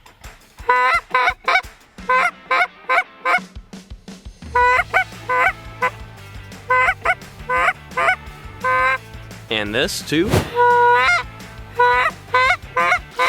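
A handheld goose call imitates a flock of feeding geese, giving rapid close, loud clucks and moans with occasional sharper honks in irregular bursts, plus a brief spoken phrase.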